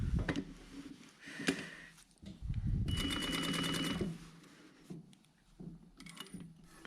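Sewing machine stitching around a curved jacket sleeve: brief handling knocks, then a close, steady burst of rapid needle stitching for about two seconds, followed by more quiet fabric and mechanism shuffling and light taps.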